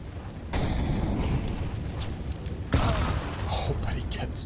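A grenade blasts in a Counter-Strike match, a loud burst followed by a second sharper boom a couple of seconds later, set against steady game noise with commentators talking over it.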